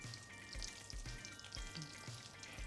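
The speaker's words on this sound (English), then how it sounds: "So first I'll melt the butter, and then I add the flour." Butter and flour roux cooking in a pot over medium heat: a soft, quiet bubbling sizzle with faint, regular stirring knocks throughout.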